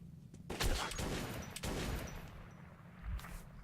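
Shotgun blasts ring out in Metro 2033, with three distinct heavy booms spaced about a second apart, each trailing into a rumbling decay.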